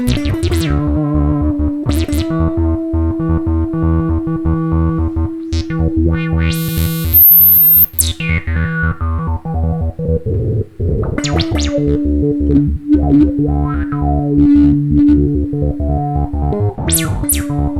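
Notes from a guitar synthesizer with a smooth, hollow triangle-wave tone play a sequenced pattern, punctuated by bright effect swells and sweeps.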